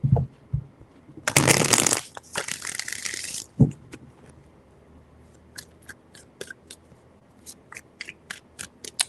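A burst of riffling tarot cards being shuffled, followed by quieter taps and clicks of cards being squared and handled up close.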